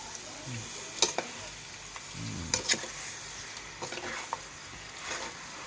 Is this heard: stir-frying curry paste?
yes